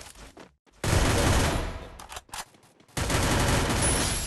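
MP5 submachine gun fire in a battle royale video game, loud sustained bursts of automatic shots in two main volleys separated by a short pause with scattered single shots.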